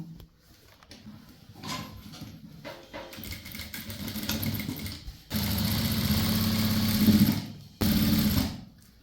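A sewing machine stitches along the folded hem of chudithar fabric, its motor whirring in rising bursts with short pauses, getting louder and steadier toward the end, with no voices.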